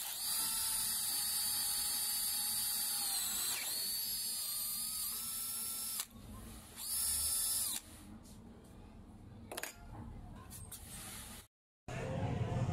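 A DeWalt DCD700 cordless drill driver whirring at high speed in a steady whine, then stopping and restarting in shorter bursts with pitch changes and brief pauses, close and loud.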